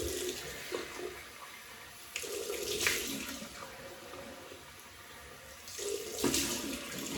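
Tap water runs into a sink for a cold rinse during a wet shave, flowing in a few bursts that swell and ease, with splashing from hands in the stream, faint and close.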